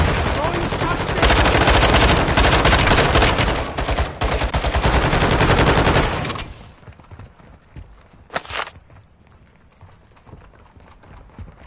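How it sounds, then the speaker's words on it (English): Loud, dense bursts of rapid automatic gunfire from Call of Duty play for about six seconds, then give way to quieter game ambience with one more brief burst. "Throwing shots there!"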